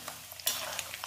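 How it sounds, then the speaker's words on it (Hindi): Peanuts frying in oil, briefly stirred, make a close, light sizzle with a few scraping clicks and a short burst of crackle partway through. "इसी तेल में हम इसको मूंगफली को भी डाल देंगे और इसको अच्छे से फ्राई कर लेंगे"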